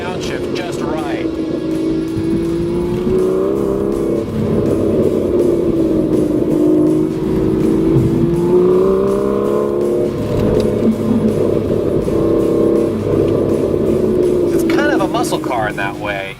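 A 2013 Aston Martin V12 Vantage engine hums loud and close, its tone swelling and dipping as the revs blip through a manual downshift, with a voice speaking over it.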